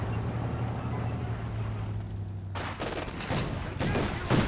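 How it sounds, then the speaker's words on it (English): Machine gun fire in the video game Company of Heroes 2 starts about halfway through as rapid loud bursts over a low rumbling battlefield drone. "allowing the machine gun to start blasting"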